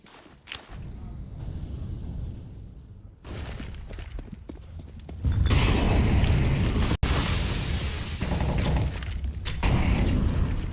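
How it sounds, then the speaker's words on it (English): Grenades go off in a Counter-Strike match, a series of booming blasts and bursts that grow louder in the second half, with one sharp crack, and a caster speaking over them. "Some nades being traded, but not really any ground being made up"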